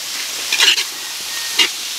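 Carrots and other vegetables being stir-fried in a pan for fried rice, a steady soft sizzle with two brief scraping stirs of the spatula, heard alone without talk.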